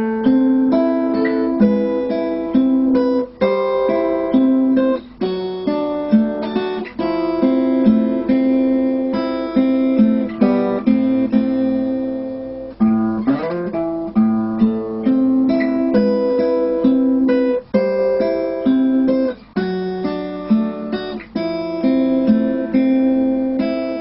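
Guitar plays the opening part A of the intro alone: a steady run of picked notes and arpeggiated chords, clear and close, with brief pauses between phrases.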